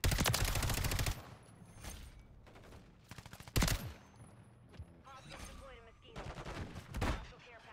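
Rapid bursts of automatic gunfire in Call of Duty: Modern Warfare III, loud sustained volleys broken by shorter rattling bursts and single shots, with a voice talking faintly in between.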